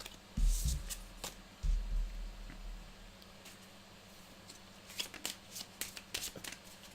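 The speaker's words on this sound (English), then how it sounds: "I'm sucking at shuffling these." Deck of playing cards being shuffled by hand during a tabletop board game, with riffling bursts and soft thumps early on, then a series of scattered crisp card snaps and flicks nearby.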